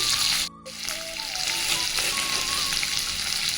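Cumin and coriander seeds fry in a pan for a tomato vegetable masala sambar, giving a steady close sizzle with a brief drop near the start and faint stirring underneath.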